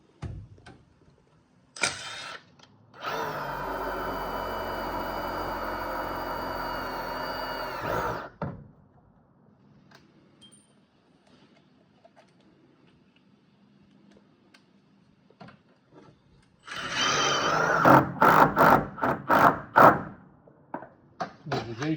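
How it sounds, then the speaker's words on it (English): A power drill pre-drills holes for self-tapping screws on an F250 4x4, giving one sustained loud whirring run of several seconds, then a quiet pause, then sharper, choppier bursts of drilling and knocking. "Pre-drill these."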